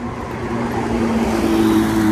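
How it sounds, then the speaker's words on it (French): The newest Porsche GT3 sports car with grey wheels drives past on a London street, its engine tone steadily rising and growing louder as it approaches, over general traffic noise. "Toute dernière GT3"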